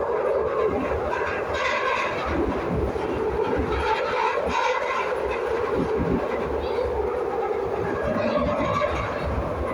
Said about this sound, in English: They make a lot of noise too, but there's not as noisy as the old Glasgow subway trains